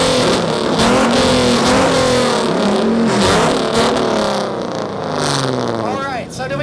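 A muscle car and a truck rev their exhausts together, loud, overlapping engine roars rising and falling, with crowd voices and shouting mixed underneath, close by at an outdoor exhaust competition.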